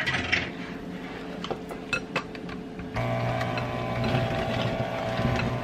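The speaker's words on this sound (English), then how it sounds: "my mixer's not that loud" A kitchen mixer comes on partway through to blend water into batter, a steady motor whir following a few clinks of utensils and dishes, moderately loud and close.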